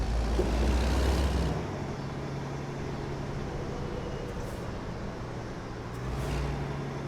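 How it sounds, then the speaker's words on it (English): A heavy truck engine in a trucking simulator video game drones steadily at low pitch, a deep rumble holding constant throughout with slight swells; no voices. "this is where you're going to be able to hear the actual truck itself"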